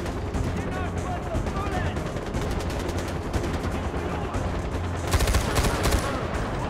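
Rapid bursts of automatic gunfire from the Far Cry 4 video game rattle continuously and loudly, with a denser, sharper volley near the end, while players talk over the shooting.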